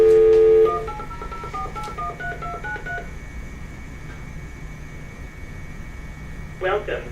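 A speakerphone handset automatically dials an interpreter access number, playing a quick run of DTMF tones in a steady rhythm over faint mains hum, then a pause before another brief tone burst near the end.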